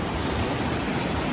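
A river runs under a bridge in Oidaira Park, Aichi, Japan, with a steady broadband rush of flowing water close by, dense and unchanging through a short moment.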